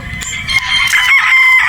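A gamecock rooster crows loudly and close by in one long, strained call, with a few clucks around it.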